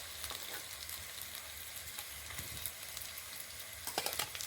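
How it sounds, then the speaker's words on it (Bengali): Fritters frying in hot oil produce a soft, steady sizzle with occasional bubbling crackles and light scrapes near the end, fairly quiet and with no talk. "এই যে দেখুন এগুলোও খুব সুন্দরভাবে ভেজে নিয়েছি।"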